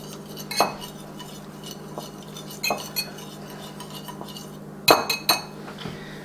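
Utensil scraping and clinking against a bowl while garlic parmesan sauce gets mixed, a few sharp metallic taps standing out over a steady low background hum, with no talk.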